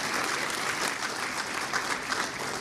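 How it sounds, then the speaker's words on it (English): An audience in Lüderitz, Namibia, applauds at a gathering, with steady, dense clapping sustained at moderate volume throughout and no voices rising above it. "Clap for Alogana."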